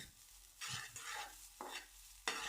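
Chicken fried rice with tomato and soy sauce being stirred in a pan, three separate scraping strokes with a soft sizzle between them, close and fairly quiet, with no voices.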